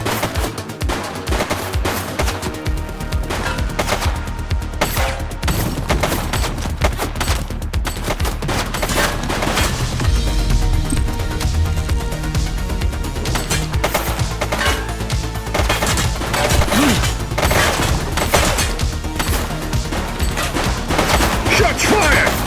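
Dense, sustained automatic gunfire rattles in a police video game set in The Precinct, with rapid overlapping shots that run almost unbroken at high loudness for the whole stretch.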